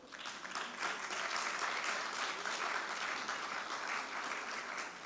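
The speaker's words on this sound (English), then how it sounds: "Clap if you are." A forum audience applauds steadily from start to finish, a thick, even wash of many hands clapping that swells slightly after the first second and holds.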